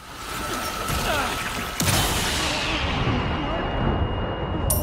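A grenade goes off in a video game with a sharp, loud blast that rolls into a dense, roaring rumble over a noisy battle backdrop, with some voice chatter mixed in.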